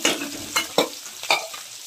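Onions frying in a pan for a vegetable biryani, with a steady sizzle and several quick scraping stir strokes close by, no voices.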